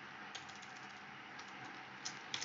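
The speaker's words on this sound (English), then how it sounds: "So okay, so I'm typing it here." Rapid, irregular typing on a computer keyboard while coding a Python app, with a steady run of light close-up key clicks and a few sharper taps near the end, no voices.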